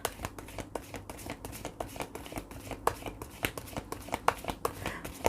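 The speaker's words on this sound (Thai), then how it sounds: "อาจารย์ขออนุญาตสับไพ่เพื่อเปิดดวงให้กับ ชาว ธาตุดิน คนมีคู่ก่อนนะคะ" Tarot cards are shuffled by hand in a quick, steady rhythm of crisp riffling snaps and soft slaps, close and alone with no talking.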